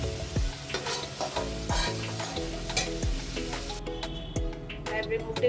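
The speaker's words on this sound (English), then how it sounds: "It's flipped over, frying on the other side. Potato is fried." Potato pieces fry in a pan for an Indian chicken tahari dish, a steady sizzle under repeated scrapes and stirs of a spatula, with a few low thumps as the pieces are turned.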